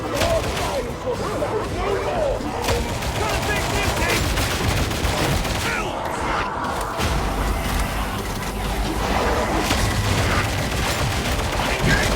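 Continuous loud gunfire from the video game Warhammer 40k Darktide, a dense stream of shots and impacts mixed with combat noise, with in-game voices talking over it.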